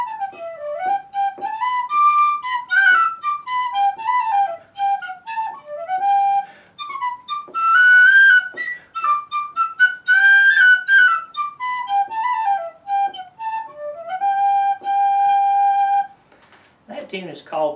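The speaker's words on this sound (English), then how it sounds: "I'm going to play a tune here on the penny whistle or the tin whistle" A penny whistle, or tin whistle, plays a lively Scots-Irish folk tune from the Colonial era, heard alone and up close as a continuous run of bright, quick melodic notes, ending with a brief soft noise.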